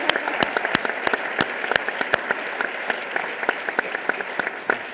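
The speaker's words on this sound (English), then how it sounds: "Big round of applause." An audience claps for panelists at the close of a televised forum on the 2010 census, a dense, lively round with sharp individual claps standing out close by, steady and without speech.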